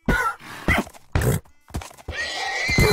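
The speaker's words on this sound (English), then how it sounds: "Oh, I killed the horse." A horse in the video game Minecraft neighs and whinnies in a few loud, close bursts separated by short gaps, with a longer drawn-out call at the end.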